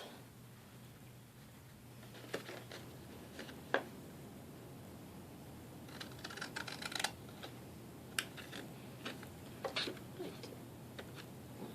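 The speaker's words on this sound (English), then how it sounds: "we're going to pick one of the ends and we're going to cut these flaps off" Scissors cut the flaps off a small paper box: faint, scattered snips and crisp little clicks over a quiet background.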